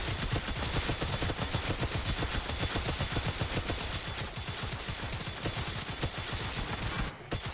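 Rapid, unbroken minigun fire from Jinx's Pow Pow machine gun in PUBG Mobile, a dense stream of shots hammering steadily throughout with one brief break near the end.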